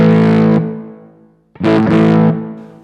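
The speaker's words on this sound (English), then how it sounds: "What you're hearing now is that the power amp gets overdriven because it gets a too hot signal" Two loud, distorted electric guitar chords with heavy overdrive from a power amp driven by a hot signal from a NUX Boostcore pedal, the first ringing out and decaying, the second struck after a short pause and held.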